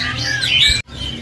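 A Thai white-rumped shama sings loudly and close in a bird shop, with bright whistled phrases and squawky notes, a brief pause, then more song.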